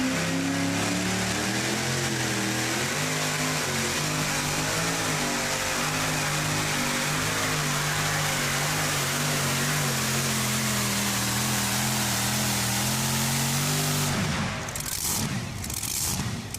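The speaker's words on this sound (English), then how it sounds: "waiting on Jay's 2 supercharged Chevrolets. Crank the crank on alcohol" A supercharged Chevrolet pulling-truck engine running on alcohol with big blowers holds a loud, steady high-revving drone for about fourteen seconds at a truck pull, then cuts off abruptly into a few sharp pops.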